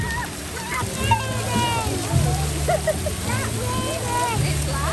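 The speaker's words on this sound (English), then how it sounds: "there's a little kids splash area as well" Water splashing at a busy kids' splash area in a water park, a steady wash of spray and sloshing with crowd chatter and distant voices throughout.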